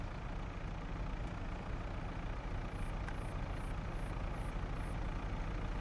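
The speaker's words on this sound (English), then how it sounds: "Bloody gorgeous tractor this is," A tractor engine idles steadily in a farming simulation game, a constant low rumble that stays even and fairly loud throughout.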